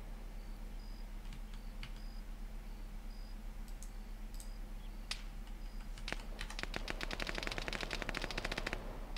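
Rapid bursts of automatic gunfire in the military shooter Arma 3, Exile mod on the Tanoa map, sharp cracks building into a dense, fast rattle in the last few seconds over steady background noise.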